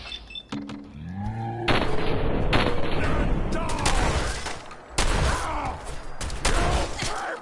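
Gunfire in Fallout 4, with several loud shots and bursts, some booming, amid other game effects and clanks, near and prominent.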